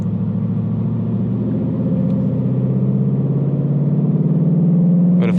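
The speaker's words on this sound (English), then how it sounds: "when I downshift, you can hear the engine revving up to match where the RPMs are going to land" A 2019 Ford Mustang GT V8 makes a steady, loud, low engine rumble that holds nearly level, then rises slightly in pitch near the end as the revs climb during a shift.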